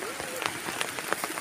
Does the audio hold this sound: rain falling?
yes